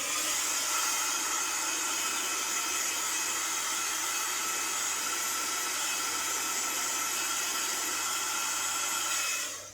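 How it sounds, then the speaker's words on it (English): A heat gun blows hot air onto a Stampin' Up Christmas card, a loud steady roaring hiss running unbroken for several seconds and cutting off at the end. "I'm just going to zap it a second with my heat gun."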